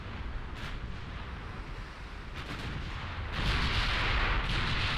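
Heavy naval guns firing in the warship video game Ultimate Admiral Dreadnoughts, a steady roar of distant booms that thickens into a louder, denser barrage near the end, with no speech.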